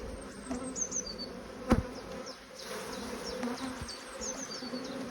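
Honey bees from a strong hive buzz steadily around an open colony, a soft continuous hum of many wings with individual bees droning past close to the microphone and one brief knock.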